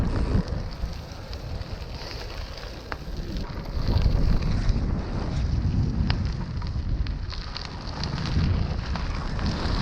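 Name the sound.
headwind blowing while cycling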